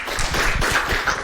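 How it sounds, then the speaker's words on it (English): Audience applause after a talk at a security conference, a dense burst of clapping close by, steady and lively for about a second with no voices. "A round of applause"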